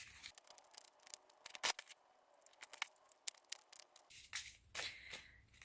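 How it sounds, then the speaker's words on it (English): A new oracle card deck is shuffled by hand, making quiet, close, irregular riffling and sliding card snaps with short crisp bursts and no voices. "And I will shuffle for a while."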